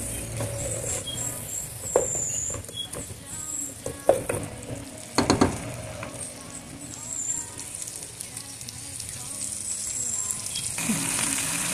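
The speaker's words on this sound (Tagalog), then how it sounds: "Lagay natin ito, ating sibuyas, garlic at kamatis." Onion, garlic and tomato sauté in hot oil for a mung bean and vegetable coconut stew, crackling and sizzling loudly with clanks and scrapes of a utensil against the pan.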